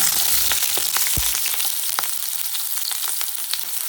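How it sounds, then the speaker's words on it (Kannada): Sliced onions fry in three tablespoons of hot oil for a ridge gourd chutney, a loud, steady close sizzle with scattered crackles and a soft knock. "ಈಗ ಈ ಎಣ್ಣೆ ಬೆಂದಿದೆ, ಈರುಳ್ಳಿ ಹಾಕೋಣ."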